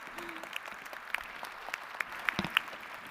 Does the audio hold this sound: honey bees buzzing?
no